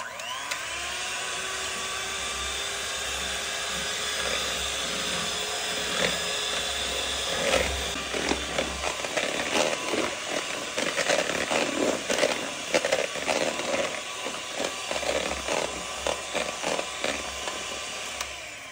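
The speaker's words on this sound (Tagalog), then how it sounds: "Gagamit ako ng electric hand mixer." An electric hand mixer whirs steadily as it whips chilled all-purpose cream, a constant motorized drone with light rattling knocks from the beaters toward the end.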